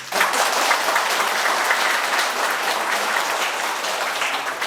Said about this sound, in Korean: 박수나 한번 해줘